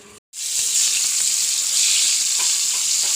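After a brief silence, hot oil in a pan for frying dried fish breaks into a loud, continuous sizzle that holds steady to the end.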